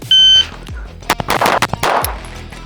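Pistol fired in a fast bill drill with a 10-pound spring: a quick string of about five sharp, close shots after a beeping shot timer, each crack ringing out, with brief talk around the shots.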